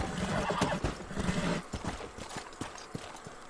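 A horse in the Red Dead Redemption video game whinnies loudly, then its hooves clip-clop in a quick, uneven series of hits fading slightly, with no talking.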